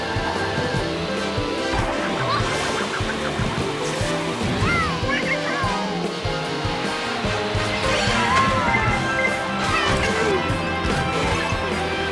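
A kart slides and skids around corners in a 50cc racing video game, tires squealing repeatedly over a steady engine drone and continuous game music.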